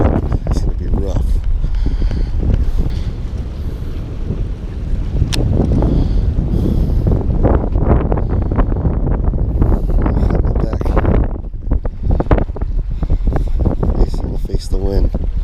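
Strong wind roars and buffets the microphone on a fishing boat out on a bay, a steady loud rush with gusty surges throughout, with water and hull noise underneath and no clear talk.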